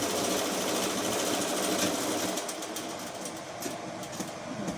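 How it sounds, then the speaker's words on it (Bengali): Sewing machine stitching fabric hums in a continuous close, loud buzz with a fast rhythmic clatter throughout. "আমি এখানটা দিয়ে এখানটা সেলাই করে নিচ্ছি।"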